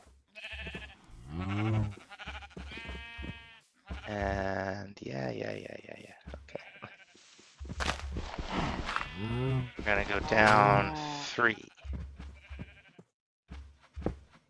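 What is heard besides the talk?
cows mooing in Minecraft (FTB One modpack) video game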